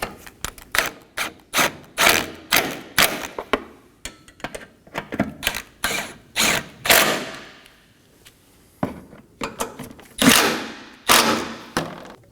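A ratchet snugging down bolts on a Toyota Corolla during a washer fluid reservoir replacement, bursts of rapid clicking pawl strokes with short pauses, close and distinct.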